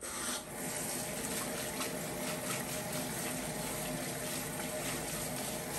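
Soybeans being rinsed under running tap water, a steady close rushing flow with no break and no talk.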